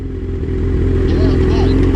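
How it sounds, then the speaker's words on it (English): A loud, steady S1KRR motorcycle engine rumbles close by throughout, its drone constant with a slight rise, while people talk over it. "Bike's that loud, mate. I can't hear nothing."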